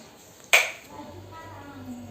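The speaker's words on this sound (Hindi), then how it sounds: "ताली बजाओ" A single sharp hand clap rings out once in a home setting, close and crisp, followed by quiet room tone with faint background hum.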